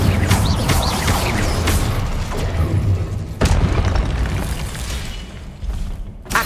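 A Confringo spell explosion in the Hogwarts Legacy video game, with loud, dense booming and rumbling battle noise that runs throughout, swelling with sudden bursts.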